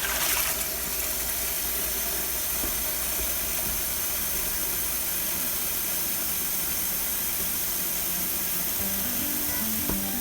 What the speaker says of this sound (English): We're going to fill that with cold water.